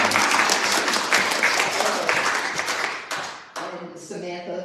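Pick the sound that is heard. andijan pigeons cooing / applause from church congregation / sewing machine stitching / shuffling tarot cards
applause from church congregation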